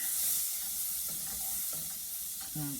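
Five tablespoons of butter melt in a pan on the stove, giving a steady soft sizzling hiss with faint stirring clinks, quiet and continuous with no talk.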